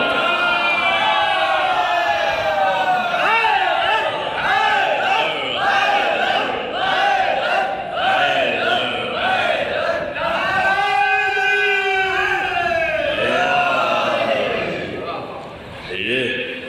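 A crowd of small children at a religious gathering chants the Naara-e-Haidari slogan in unison, voices rising and falling in steady repeated waves, loud and continuous throughout, close by.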